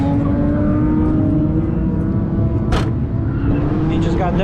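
A Corvette C6 drift car idles and rumbles steadily up close at an outdoor drift event, a loud continuous engine drone with a brief sharp burst midway, while people talk over it.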